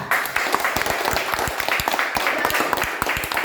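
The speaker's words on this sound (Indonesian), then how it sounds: "Tepuk tangan dulu untuk kita." Primary schoolchildren clap together in a classroom, a close, lively burst of applause with sharp individual hand claps standing out over the crowd's patter, held steadily throughout.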